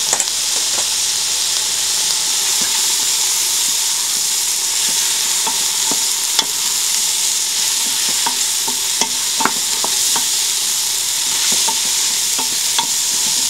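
Strips of about three bell peppers stir-frying in a hot pan for a fried rice with chicken and vegetables: a steady broadband sizzle with scattered clicks and scrapes of stirring. Loud and close, with no voices.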